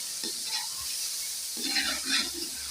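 Garlic paste fries and sizzles in a pan for a chicken, potato and pea curry, a soft continuous hiss with light stirring scrapes, close and without talk.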